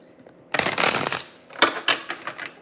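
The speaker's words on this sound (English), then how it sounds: "I'm gonna do one more shuffle here." Tarot cards being shuffled by hand, two quick riffling bursts close to the microphone, a longer one followed by a shorter rippling run, with quiet pauses around them.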